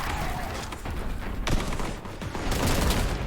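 Rapid gunfire from the shooter Boltgun: a dense volley of close, punchy shots with sharp cracks and low thumps, loud and continuous throughout.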